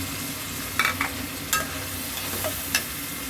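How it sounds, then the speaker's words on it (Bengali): Shrimp frying in a spice paste for a pumpkin and shrimp bhuna, a low, quiet sizzle broken by a few sharp scrapes and taps of a spatula against the pan, with no voices. "মশলাটা আমি এখন কষিয়ে নিব। কষানোর পর চিংড়ি মাছটা ঢেলে দিলাম।"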